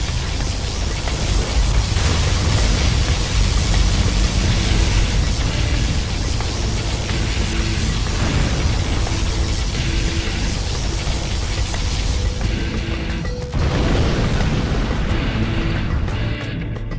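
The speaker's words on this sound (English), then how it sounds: "Particle cannon activated." Particle cannon beam strike in Command & Conquer Generals Zero Hour, a loud sustained roaring blast with rumbling explosion texture lasting many seconds, a brief dip near the end before resuming.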